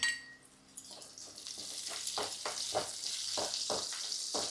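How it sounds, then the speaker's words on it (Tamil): Curry leaves dropped into partly sautéed onions sizzle in hot oil for a cauliflower curry, a steady frying hiss with a few soft clinks and stirring scrapes, close and alone with no talk. "பாருங்கள், வெங்காயம் ஓரளவுக்கு வதக்கிட்டோம். இந்த கருவேப்பிலை போட்டுக்கலாம்."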